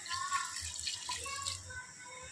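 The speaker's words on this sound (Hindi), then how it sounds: "इसमें हम पानी डालेंगे" Water poured into a cooking pot of mutton with oil, a soft, close splashing and trickling that runs for about two seconds before easing off.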